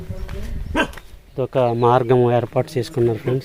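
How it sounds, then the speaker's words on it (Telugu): A dog in a tribal forest village near Araku, Andhra Pradesh barks and whines in a rapid series of tonal yelps, close by, while someone narrates over it. "కుక్క ఫ్రెండ్స్, కుక్క అరుస్తుంది."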